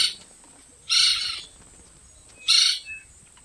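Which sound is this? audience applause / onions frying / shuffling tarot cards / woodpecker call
woodpecker call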